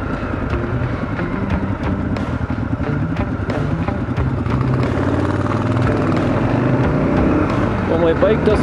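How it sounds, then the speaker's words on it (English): An adventure motorcycle's engine idles at a stop on a multi-day road trip, a steady low rumble running the whole time under wind noise and a rider's talk. "It doesn't want to stall when I come to a stop."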